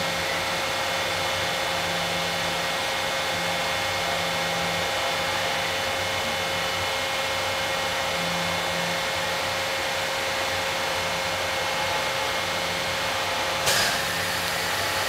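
Icon Industries 440-ton hydraulic press running a full-stroke cycle, a steady loud hum of the hydraulic pump and motor that holds level throughout, ending with a brief sharp clunk near the end.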